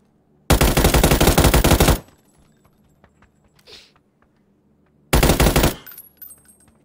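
Automatic weapon fire in the console video game PUBG, two loud, close bursts of rapid gunshots, the first about one and a half seconds long and the second shorter, with faint clicks and a brief swish between them.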